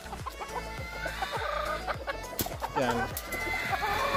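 Gilmore hen clucking in a battery-type breeding setup, a series of close, sharp, evenly spaced clucks with a louder squawk near the end, while someone talks over them.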